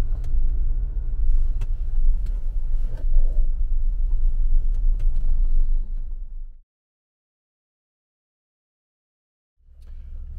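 A Ford Bronco with a manual transmission pulls away from a stop, a low steady engine rumble close by for several seconds before the sound cuts out and briefly returns.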